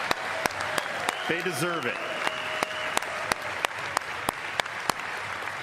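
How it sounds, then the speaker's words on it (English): Audience applause for Milwaukee Brewers teammates at the 2025 MLB awards ceremony: steady, dense clapping throughout, with someone briefly speaking over it. "Please give my Brewers teammates a round of applause."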